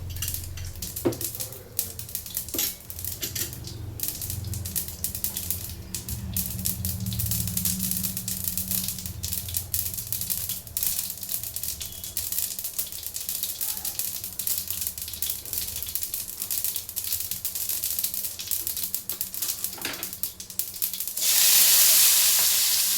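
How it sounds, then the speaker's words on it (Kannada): Mustard seeds splutter and pop in hot oil as a Kannada vegetable kurma tempering begins, with sharp scattered crackles over a continuous sizzle and a few metallic pan clinks, ending in a louder burst of hiss. "ಸಾಸಿವೆ ಸ್ವಲ್ಪ ಚಿಟಪಟ ಅನ್ನಿ"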